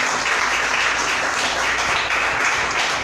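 A church congregation claps together in praise of the Lord during a sermon, a loud, sustained wash of applause with no speech on top.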